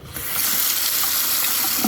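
Water gushes steadily from a house sink faucet on a well water supply, a loud continuous hiss and splash close by with no pauses and no voices.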